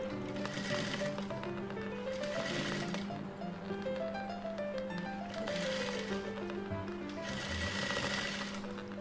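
A sewing machine runs steadily while stitching a blouse, a fast continuous mechanical whir and chatter close by, with a faint melodic tune playing underneath.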